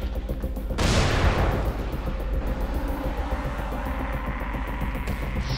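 A sudden, loud explosion in the zombie game Dying Light. A sharp broadband blast is followed by a long rumbling decay that lingers over a steady low in-game background.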